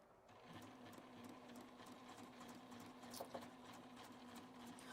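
A sewing machine stitches quilt four-patch blocks for a cat bed, its motor humming steadily with a fast, even mechanical chatter, close and fairly quiet, with a couple of brief clicks near the end.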